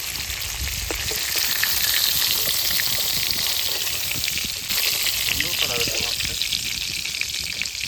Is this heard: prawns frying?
yes